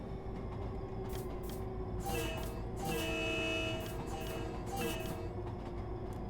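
A passing train in the Train Sim World 3 game, set on the Long Island Rail Road in snow, rumbles steadily with a couple of long horn blasts sounding over the continuous rolling noise.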